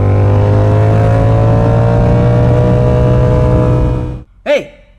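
A motorcycle exhaust drones steadily while riding, a loud continuous engine tone that holds for about four seconds and then cuts off abruptly, followed by a brief voice.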